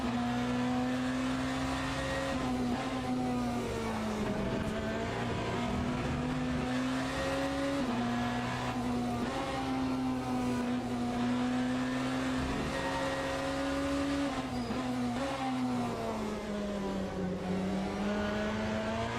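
BMW hypercar engine in the racing game Le Mans Ultimate at Fuji Speedway, a loud steady high-revving drone that rises and dips through gear changes and throttle lifts, continuous and close for the whole stretch with no talking.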